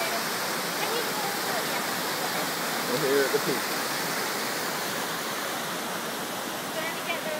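A countryside waterfall frequented by monkeys roars with a loud, constant, close rush of falling water while a person speaks briefly over it.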